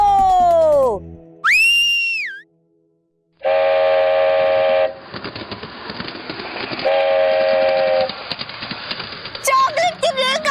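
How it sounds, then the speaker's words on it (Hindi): Toy chocolate train whistle in a children's fantasy scene, with rising whistle toots followed by a long sustained horn-like tone and chugging rail clatter, loud and busy with further whistle bursts near the end. "और इन पटरियों पर चॉकलेट की रेलगाड़ी भी चलती है।"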